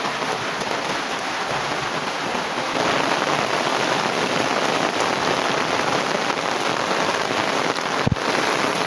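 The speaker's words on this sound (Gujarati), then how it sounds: "આગળ આપણે બતાવી દીધું એટલો વરસાદ છે." Heavy monsoon rain pours steadily onto flooded farm fields, a loud, dense hiss of drops that holds constant throughout with one brief thud near the end.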